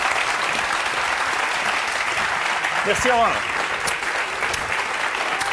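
Studio audience applause on a French TV quiz show, steady dense clapping throughout with a brief voice speaking over it midway.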